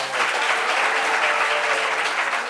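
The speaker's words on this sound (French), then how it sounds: "Applaudissements pour ça." Audience applause, a dense, loud and steady wash of many hands clapping that holds unbroken for the whole short burst.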